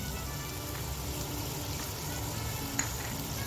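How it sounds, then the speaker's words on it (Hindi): Steady, dense sizzling of chicken frying with ginger-garlic paste in a hot pan, a continuous crackling hiss at even volume with one faint clink. "इसमें अच्छी तरह से 2-3 मिनट फ्राई कर लीजिए, चिकन का कलर बदलने तक"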